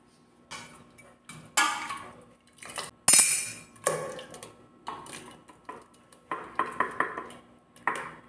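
Metal clinks, taps and pings from a stovetop pressure cooker lid being opened after its pressure has been released, with a sharp hiss-like burst midway, in a kitchen making jeeraka kanji; close and intermittent, no talk.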